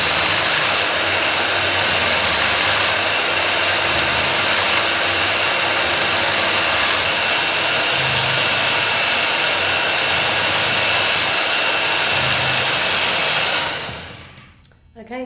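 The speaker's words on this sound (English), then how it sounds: "The sharpening is done in the fine section, and again you spend about a minute going left, right" An I.O.Shen Knife Wizard KE198 electric sharpener runs steadily in its fine section while a knife is drawn through, giving a loud, continuous whirring grind that holds for about thirteen seconds and then cuts off abruptly.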